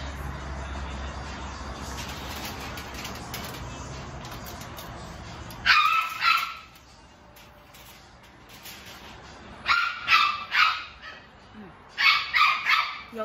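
A pet dog barks in a house in short sharp bursts, three clusters of loud, close yaps separated by pauses, after a stretch of background talk and room noise.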